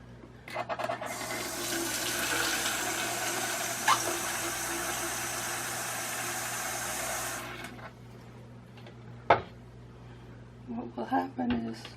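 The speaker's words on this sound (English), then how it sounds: "And you add some water to rinse the salt" Water is poured into a container of cochineal lake pigment to rinse the salt out, making a steady splashing, running stream for several seconds before it stops. Faint clinks and handling noises follow.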